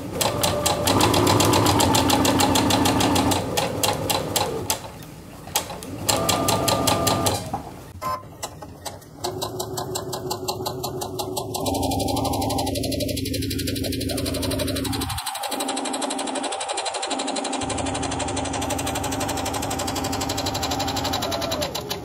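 Sewing machine stitching the bodice of a Vogue 9075 jumpsuit, a steady loud close-up whir of rapid needle strokes running almost continuously, with brief pauses and shifts in speed.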